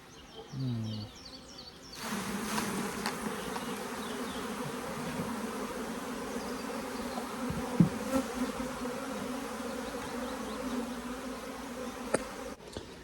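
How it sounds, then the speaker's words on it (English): Many honey bees fly and buzz in a continuous swarming hum around an open hive, close by and steady, with a few faint knocks and clicks along the way. "There's a lot more flying bees on there than I thought there was going to be."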